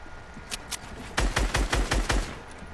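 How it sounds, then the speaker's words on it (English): Drum-fed shotgun firing in a video game: two quick sharp shots, then a rapid burst of about six loud, booming blasts in steady rhythm, close and alone without talk. "You got a drum shotgun too?"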